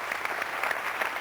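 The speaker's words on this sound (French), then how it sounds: "Jean-Claude Poirot, qu'on applaudit" A television talk-show studio audience applauds a guest, with steady, even clapping from many hands throughout a short burst and no speech on top.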